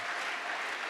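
A church congregation applauding Jesus during a sermon, with a brief burst of dense, steady clapping from a crowd at moderate loudness.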